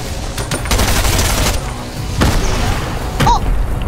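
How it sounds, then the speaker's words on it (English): Loud explosive blasts in a shooter video game as a player blows himself up, with a burst of rapid bangs followed by a second heavy boom and scattered gunfire-like crackle. "And I blew myself up."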